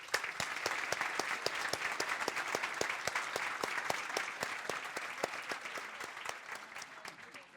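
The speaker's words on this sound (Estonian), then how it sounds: "aplaus kõikidele osalejatele" Applause for all participants after an investment panel discussion, a modest room of clapping with a few sharp, evenly spaced claps standing out above the steady patter, fairly quiet and gradually thinning.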